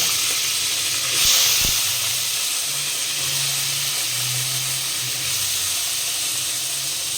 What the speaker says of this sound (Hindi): अभी दोनों को हम साथ में फ्राई करेंगे, गोभी को भी